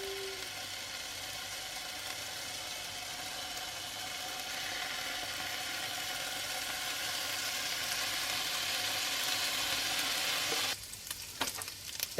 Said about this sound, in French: je mets dans une poêle bien chaude mes 3 tranches de bacon que je vais laisser griller